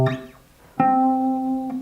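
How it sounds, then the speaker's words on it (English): Plucked guitar notes sound an octave interval: a clean, ringing tone sustains close and clear, followed by a second softer pluck near the end, with no talking. "a very unique interval referred to as the octave"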